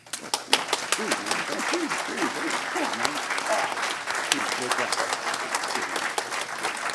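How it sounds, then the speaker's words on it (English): A conference crowd at SkyDogCon 2013 claps loudly during the awards and closing remarks, a sustained roar of applause with a voice speaking over it near the start. "So a round of applause for Noah."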